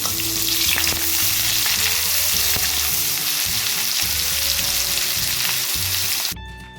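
Chopped onion fries in oil with cumin, dried chilli and bay leaf for an Assamese-style eggplant dish, a close, dense sizzle with stirring clatter throughout that fades sharply at the end.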